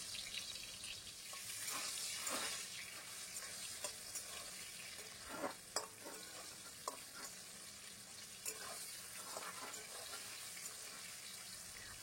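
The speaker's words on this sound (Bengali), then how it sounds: "এবারে আলুটা ভেজে তুলে নেব" Potatoes frying in white oil in a kadai, a steady close sizzle with scattered crackles and occasional stirring clicks throughout.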